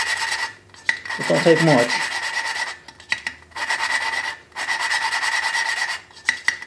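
Valves being lapped by hand into their seats on a twin Briggs engine with a suction cup tool, giving repeated close gritty rasping strokes in bursts separated by short pauses; one brief spoken remark partway through.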